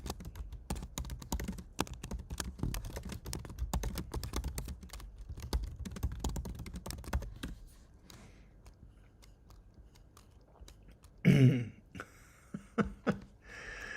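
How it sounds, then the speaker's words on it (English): Rapid clicking of keys on a computer keyboard, dense and steady for several seconds, then thinning to scattered taps after a louder thump; someone at a home automation hangout types close by. "I'm just typing at the moment."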